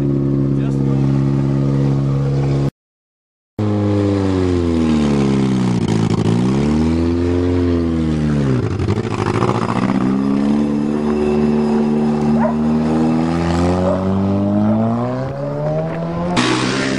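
A Toyota car engine revs up and down in long sweeping waves while misfiring, loud and close, with a brief dropout early on and voices talking over it.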